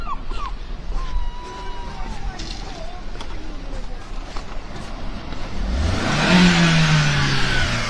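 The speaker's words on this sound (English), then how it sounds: "Rev that car." A car engine by the seaside at Cullercoats revs up loudly near the end, rising in pitch and then holding, after a stretch of outdoor ambience with a faint voice.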